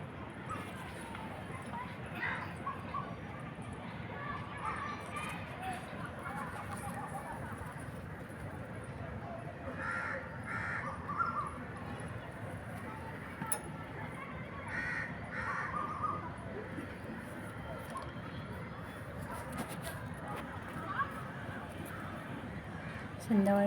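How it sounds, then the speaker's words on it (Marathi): Crows caw repeatedly at an evening outdoor garden, with distant chirping birds and faint background activity. "संध्याकाळचं वातावरण आहे आणि खूप छान असा पक्ष्यांचा आवाज येतो."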